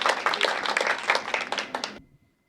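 An audience at a Hindi poetry gathering claps loudly and densely for about two seconds, then the applause stops abruptly into silence.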